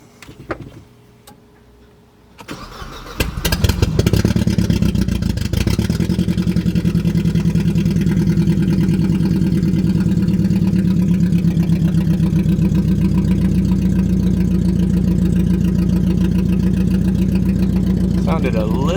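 A Mercedes-Benz engine with no exhaust fitted cranks after some clicking, catches and settles into a loud, raw, steady idle with a rapid rhythmic pulse; a voice is faintly heard early on.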